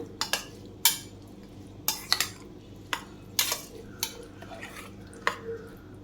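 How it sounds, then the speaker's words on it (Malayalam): A spoon stirs green chili pickle with oil and salt in a bowl, producing close, irregular metallic clinks and scrapes spaced over several seconds. "ഇനി നല്ലതുപോലെ മിക്സ് ചെയ്യാം."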